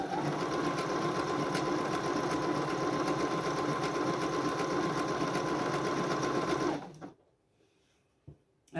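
A sewing machine runs in one continuous stitching burst for nearly seven seconds, a loud, steady close whir with a humming motor and rapid needle rattle, then cuts off abruptly into near silence with a faint click.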